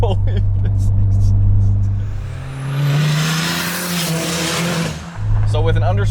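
A 500 hp Dodge Caliber with a 2.4 liter four-cylinder spins its tires without grip in second gear, giving loud engine drone, rising whine and tire squeal as the car slides around the road.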